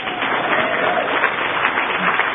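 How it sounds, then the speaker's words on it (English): Steady applause from a crowd, dense and even, with clapping and murmuring voices blended together throughout. "give him a round of applause here"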